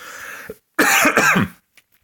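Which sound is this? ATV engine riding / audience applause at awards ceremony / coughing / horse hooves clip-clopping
coughing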